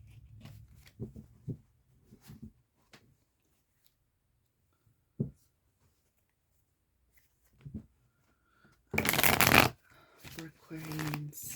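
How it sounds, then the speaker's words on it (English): Tarot cards being shuffled by hand, soft papery riffles and taps scattered through quiet passages, with a louder burst of shuffling near the end. "let's go ahead and shuffle up these cards"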